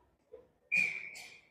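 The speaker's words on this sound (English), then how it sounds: "Finally, the whistle." A referee's whistle at a hockey game between Hopkins and Minneapolis sounds as a single loud, sustained high blast that ends in a shorter second burst, preceded by faint rink noise.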